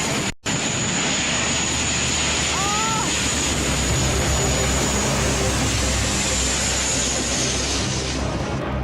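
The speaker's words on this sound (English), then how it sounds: "Oh my God, the jet!" A jet aircraft flying over the sea, a loud, steady roaring engine that fills the whole stretch, blended with wind and surf noise.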